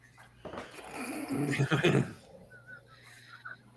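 A human voice imitating a donkey's bray, a loud, drawn-out rising and falling call near the microphone, followed by quieter background sound.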